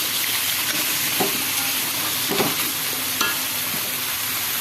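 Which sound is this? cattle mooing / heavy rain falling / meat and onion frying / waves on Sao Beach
meat and onion frying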